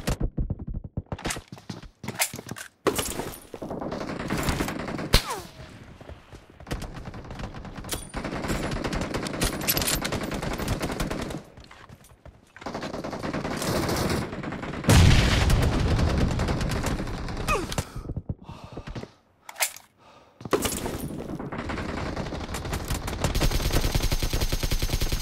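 Gunfire in the battle royale video game PUBG, with dense bursts of automatic and single shots crackling across the whole stretch, loud and close, broken by a few brief quiet gaps.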